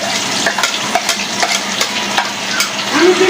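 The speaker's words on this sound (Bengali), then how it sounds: "এটা আমি একটু ভেজে নেব দিয়ে দিচ্ছি আমি এখানে পেঁয়াজ আর কাঁচামরিচ" Onion and green chilli frying in hot oil, a steady close sizzle with stirring scrapes and clicks running throughout, no talking.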